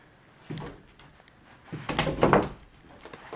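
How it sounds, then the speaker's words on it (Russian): Large, unusually designed wardrobe doors open in a Central Florida show home, a soft knock followed by a longer sliding, rumbling movement, close and fairly loud in a quiet room. "вот это да, посмотрите, как открываются большие двери"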